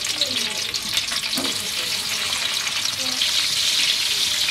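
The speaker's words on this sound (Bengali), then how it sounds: "সবজি রান্না করার জন্য তেল দিয়ে দিচ্ছি" Oil sizzles and crackles steadily in a pan heated for cooking vegetables, a dense bright hiss that holds throughout with a few faint clinks and stirring sounds and no talk.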